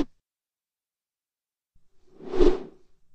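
A single pitched-down whoosh sound effect with a reversed buildup rises out of silence and sweeps quickly past, peaking sharply before cutting off.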